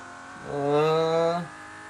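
A Holden car accelerates down a runway in a Roblox driving game, its synthetic engine tone swelling in for about a second, holding steady and rising slightly before cutting off.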